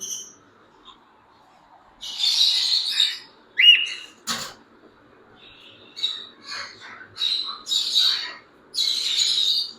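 Cockatiels and lovebirds call inside a pet shop, loud raspy squawks and sharp chirps coming in bursts with short pauses, close and clear over a quiet background.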